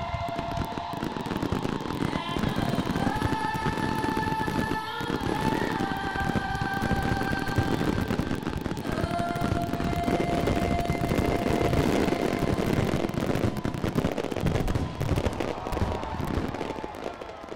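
A fireworks show at the Sky Wars competition produces a dense, unbroken roar of bursts and crackling, with rising whistling tones cutting through the loud, continuous barrage.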